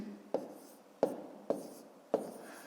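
Numbers are written by hand during a math calculation, with four faint, separate scratches of pen or pencil on paper in a quiet room.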